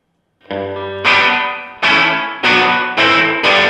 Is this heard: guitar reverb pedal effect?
yes